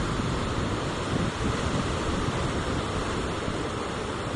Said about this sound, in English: It's a lot of surf.